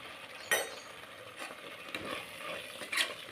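Coriander powder and spices stirred as they fry in a pan of tomato bath masala, with soft scraping strokes over a faint steady sizzle and a few louder clinks, no talk.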